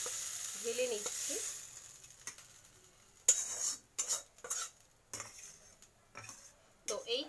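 Red amaranth greens stir-frying in a pan, with a soft sizzle under a series of spatula scrapes and clinks against the metal, some spaced strokes and short pauses between them.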